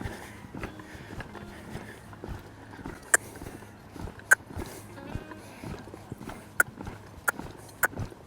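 Horse hooves clop in a steady trotting rhythm on firm ground, moderately close, with a few sharper, louder strikes standing out.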